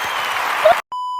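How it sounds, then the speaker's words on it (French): Short burst of applause, a dense clatter of clapping that cuts off abruptly and is followed by a steady electronic beep tone. "on peut m'applaudir"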